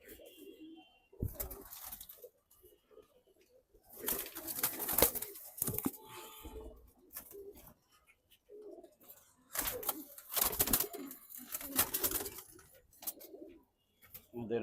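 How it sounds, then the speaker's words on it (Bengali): Pigeons cooing nearby in repeated low throaty bursts separated by short quiet gaps, with a few faint rustles and chirps in between. "অনেকগুলা কবুতরই এখনো কানিতে আছে"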